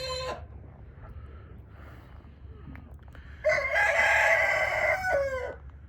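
A rooster crows loudly and near, a long full cock-a-doodle-doo standing out over a low rumbling background, preceded by fainter distant crowing and clucks.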